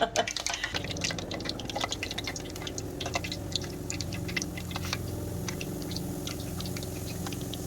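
Phulki fritters for dahi bhalla, made from besan batter with green masala, sizzle in hot oil with a steady crackle and scattered sharp pops and drips, under faint background voices.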